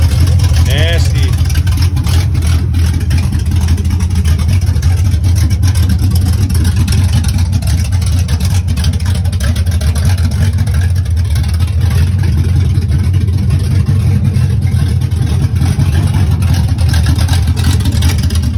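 A Ford Galaxie with a 429 big block V8 and open long tube headers idles loud and close, a heavy, rough, lumpy rumble that keeps on steadily throughout.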